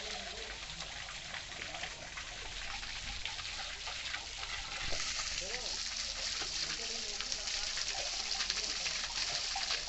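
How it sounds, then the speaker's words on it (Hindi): Water pours steadily from the mouth of a Naag Devta serpent statue onto a Shivling at a cave shrine, a continuous splashing trickle with a voice talking over it and birds faintly in the background. "यहाँ नाग देवता के मुंह से पानी निकलता हुआ।"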